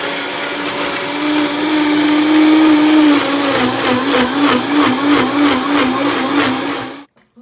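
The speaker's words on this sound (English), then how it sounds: "Again, blend it into soup." Blender whirring through strawberry cheesecake mixture with maple syrup, a loud close motor whine that rises, pulses as the contents churn, then cuts off abruptly near the end.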